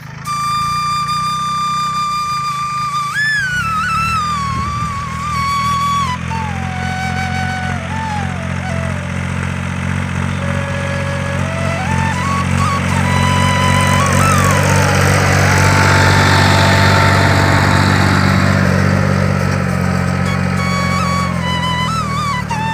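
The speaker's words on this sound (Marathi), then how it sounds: "हे बघा छोट्या एकदम व्यवस्थित सरी पाडू राहिली माझ्या मित्राचा ट्रॅक्टर आहे" A small tractor engine drones steadily at close range while ploughing two-foot furrows in a field, its pitch rising and falling as it works, with no talking over it.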